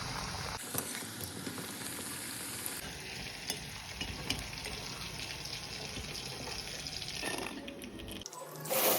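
Rava vadai fry in hot oil with a steady, close sizzling and bubbling that runs without a break, rising and falling slightly as the fritters cook.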